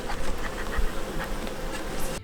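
Honey bees buzzing close by, a dense continuous drone with a few individual wingbeats rising above it.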